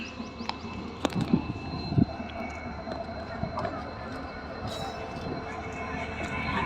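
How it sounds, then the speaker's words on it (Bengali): A train pulls slowly into a railway station with a low rumble and rolling clatter, a few sharp metallic clanks near the start, then a steady hum. Voices speak over it. "তো দেখো এই যে ট্রেন চলে আসছে ধীরে ধীরে।"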